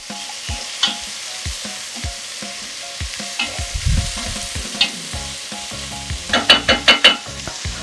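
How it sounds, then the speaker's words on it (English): Peppers fry in a pan with vegetables and black beans. They sizzle continuously under repeated scraping stirs of a spoon, close and fairly loud, and nobody speaks. "So now fry the peppers as well."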